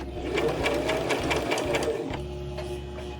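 A sewing machine stitches yarn onto a backing to form a wig, running in a steady close mechanical whir with a rapid needle rhythm and a couple of brief slowdowns as the stitching changes direction.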